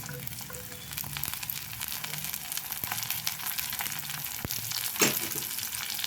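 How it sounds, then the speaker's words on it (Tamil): Cashews, carrots and beans sauté in hot oil in a pan for a vegetable semiya dish, giving a steady, close sizzle with light stirring scrapes and one sharper clatter near the end, no voices. "முந்திரி அதோடு வந்து நல்லா கேரட்டு பீன்ஸ் எல்லாம் போட்டுவிடுவோம் இது நல்லா எண்ணெயிலேயே வதங்கிட்டோம்"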